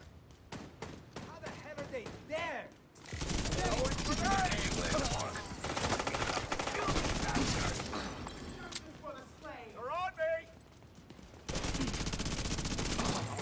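Bursts of very rapid automatic gunfire in an online shooter's Dark Zone, loud and dense, broken by pauses in which someone talks excitedly over game sounds.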